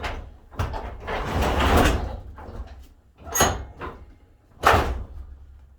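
A garage door, freed from its opener during a tension spring replacement, rumbles along its track for about a second and a half, then gives two sharp, loud clunks a little over a second apart.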